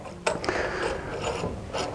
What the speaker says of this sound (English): insert it into the collet nut